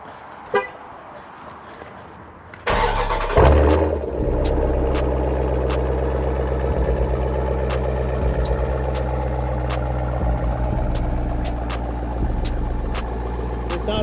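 A Jeep SRT with a 6.4 liter V8 and Borla Atak exhaust is remote started: a quiet lead-in, then a sudden loud cranking catch and burst into a deep, rumbling idle that holds steady and close.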